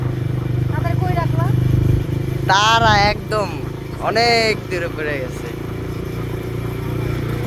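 A motorcycle being ridden hums steadily throughout at close range, its low engine drone continuous beneath bursts of conversational speech from the riders.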